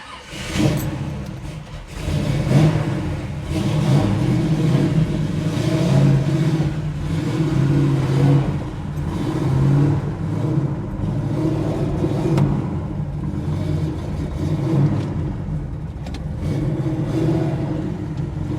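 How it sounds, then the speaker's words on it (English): A 1957 Chevy convertible engine revving on an icy surface as the tires spin, heard as a sustained, fairly loud engine drone with surges and rumble lasting the whole stretch. "That's the problem when it melts. It's nicer out in the skin, but man, the tires spin."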